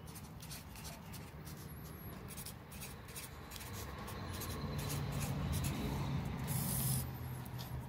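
Pen scratching on paper as someone writes out notes by hand, a faint, close, continuous scribbling with short strokes and pauses.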